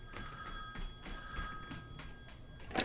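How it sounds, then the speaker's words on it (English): Telephone bell ringing for an incoming call in a sci-fi comedy podcast, quiet repeated ring bursts in a steady rhythm, heard alone. "Ooh, phone call."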